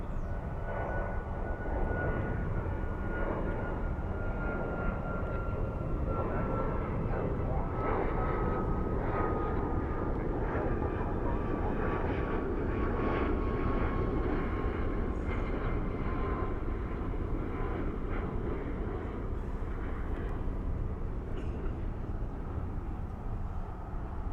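A Boeing 737 MAX 8 jet departs Dallas Fort Worth airport at night, its engine roar steady and fairly distant, with a faint tone slowly falling in pitch across the long rumble.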